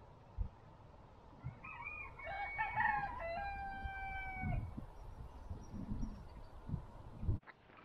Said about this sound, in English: Except for the cockerel crowing.